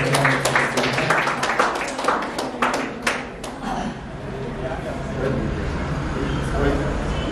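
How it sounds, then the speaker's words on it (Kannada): Audience applause at a quiz competition, a burst of lively, close clapping that fades over a few seconds while a host keeps speaking over it. "ಜೋರಾದ ಚಪ್ಪಾಳೆ ಬರಲಿ ನಮ್ಮ ಆಡಿಯನ್ಸ್ ಗೆ"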